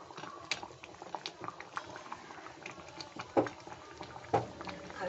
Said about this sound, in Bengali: সামান্য একটু জল দিয়ে ডালটা ফুটছে এখন।